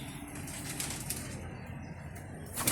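Racing pigeons flapping their wings in a loft, a steady soft fluttering and rustling close by, with no talk.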